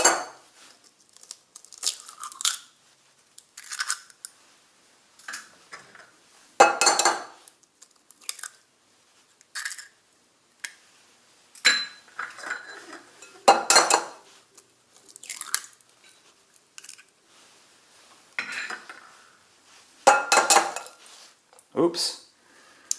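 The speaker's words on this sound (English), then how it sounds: "Now we're going to crack the 4 eggs into it." Four eggs cracked into a cup of fat-free skim milk, close, irregular taps, cracks and crackly shell sounds, sometimes against a dish, separated by silences, with no talk.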